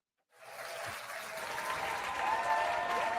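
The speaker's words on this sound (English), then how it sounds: "Can I get some more applause?" Applause from a podcast audience starts abruptly after a moment of silence, then builds into steady clapping that carries on to the end.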